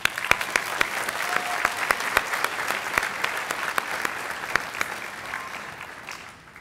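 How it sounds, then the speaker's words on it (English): Graduation audience at a high school ceremony applauding steadily, a dense wash of clapping with sharp individual claps standing out, sustained throughout and tapering slightly at the end. "I think you should give yourselves a big round of applause"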